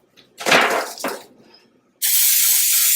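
A can of butter-flavoured baking spray with flour built in hisses steadily as it coats a cake pan, a loud continuous spray lasting about a second after some brief rustling and handling noises.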